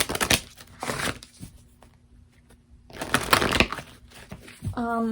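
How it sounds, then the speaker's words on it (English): Tarot cards being shuffled by hand during a pick-a-card reading, with two bursts of riffling and crinkling separated by a quiet pause, close and fairly loud, with a voice starting at the end. "And I shuffle these decks."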